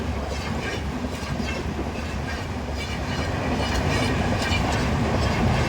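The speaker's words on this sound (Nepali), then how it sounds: "यता ट्रेन पनि आइपुग्यो। कति स्पिडमा आउँछ नि" A Rajdhani Express passenger train rolls along the rails at speed, a loud steady rumble and clatter of wheels that grows slightly louder as it passes close by.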